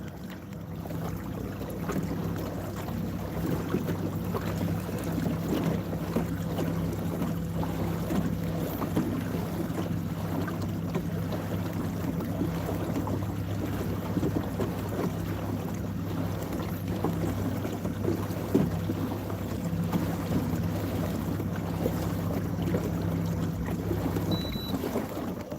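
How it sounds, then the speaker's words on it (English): Steady night wind blowing across a lake heard from a fishing boat, a constant broadband rush with low rumble like buffeting on the microphone, unbroken and even throughout, with no talking. "Feel a little bit of that wind now."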